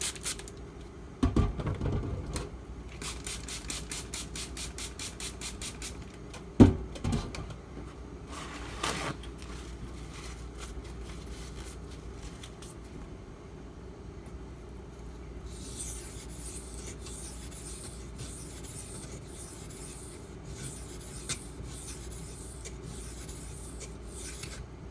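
A knife blade scrapes over a 6000 grit water stone in rhythmic strokes, first in quick bursts of rubbing, then in long steady passes, soft and close with a brief knock partway through and a quieter hiss later.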